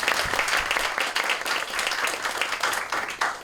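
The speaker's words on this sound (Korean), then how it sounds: "뜨거운 박수 부탁드리겠습니다." An audience claps warmly for four panel speakers being introduced at a science talk event, a brisk, dense burst of applause close by with no voices over it.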